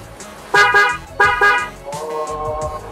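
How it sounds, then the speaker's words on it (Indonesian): A Denso horn fitted to a 2022 Toyota Rush honks twice in quick succession, loud and close, then gives a longer, softer third blast. No one speaks. "Coba kita cek klaksonnya ya, karena kita tadi pasang klakson Denso."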